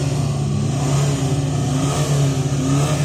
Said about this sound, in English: Can you rev your Transporter, see if it's as fruity as this one?